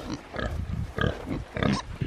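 Pigs grunting in a pasture, a run of low, close grunts and snorts coming in bursts over about two seconds, fairly loud and rough-textured.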